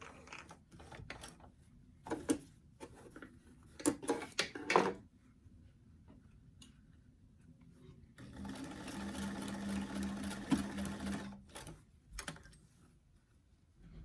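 A sewing machine stitches a doll dress in a steady whirring run of several seconds, preceded by scattered clicks and handling knocks, with quiet pauses between.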